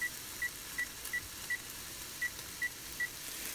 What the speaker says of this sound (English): And then we're going to set the timer again for 10 more minutes.